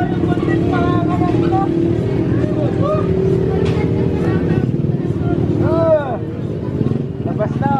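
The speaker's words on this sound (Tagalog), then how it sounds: "Traffic." Street traffic with a steady engine rumble and passing vehicles, loud and close, as people talk over it throughout.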